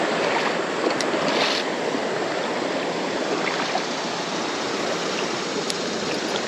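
An old trout creek flows in a steady, dense rush of water, loud and continuous throughout with no voices.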